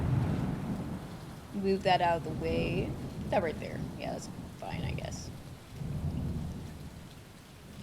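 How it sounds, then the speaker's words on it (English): Steady rain hisses with low rumbles of thunder in a Stardew Valley summer day, playing quietly beneath a person talking. "Yes, it's raining."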